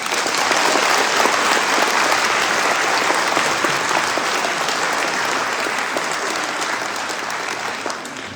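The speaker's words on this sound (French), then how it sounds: "Je vous demande vraiment un tonnerre d'applaudissements pour eux" Loud, sustained applause from a large audience at a 2025 New Year's greetings ceremony, dense clapping that holds steady for several seconds and eases slightly toward the end, with no voices over it.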